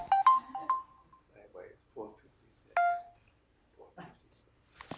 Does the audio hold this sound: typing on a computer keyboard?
no